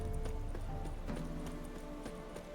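A horse in The Witcher 3: Wild Hunt clip-clops with steady, rhythmic hoofbeats over a loud, dense game soundscape.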